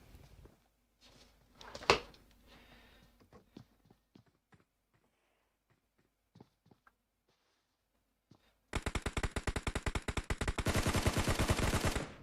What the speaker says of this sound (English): Putting some shots in over to Evasion. Oof, and then receiving some back.